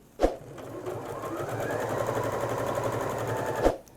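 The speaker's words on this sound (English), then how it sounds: "I'm just going to do a top stitch to close up that opening" A Janome sewing machine runs steadily while top stitching closed the lining opening of a tote bag, a continuous close whirring hum with a sharp start and stop at each end.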